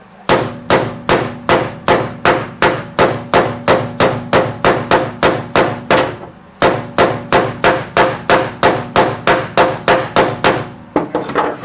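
Rapid, regular hammer blows on a Datsun 280ZX floor pan during a plug weld repair, ringing out one after another, a brief pause midway, then the steady pounding resumes, loud and close.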